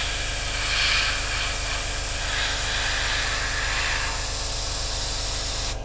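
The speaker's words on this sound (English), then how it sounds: "as we get nearer the edge we'll just slow our spray down" An airbrush sprays paint onto a 1/48 Academy Raptor model kit in a steady, close, continuous hiss, swelling slightly in passes, with a faint mechanical hum underneath and no talking.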